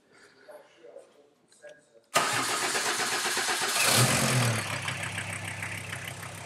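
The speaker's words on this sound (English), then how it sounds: "Start the engine, please." A diesel car engine cranks and fires during a workshop intake-cleaning demonstration, an abrupt loud start after quiet background talk, then settling into a steady, rumbling idle.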